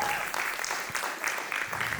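An audience applauds a competitor at a dessert baking competition, a brief burst of brisk, close clapping with voices mixed in underneath.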